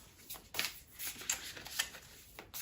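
Large oracle cards side shuffled by hand, a run of soft papery riffs and slaps in uneven bursts, close and fairly quiet.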